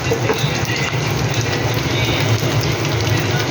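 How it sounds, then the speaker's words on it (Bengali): Potatoes frying in a pan of hot oil with about a spoonful of turmeric powder added, a steady close sizzle and crackle running throughout without a break. "আলুটা ভেজে নিচ্ছি।"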